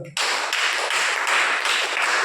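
A church congregation claps hard together, a dense, loud burst of rapid hand claps that starts abruptly and carries on unbroken for about two seconds, with no voices over it.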